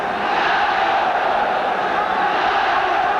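A large stadium crowd at a World Cup qualifying football match between China and New Zealand cheering on its team, a loud sustained roar of massed voices with commentary over it.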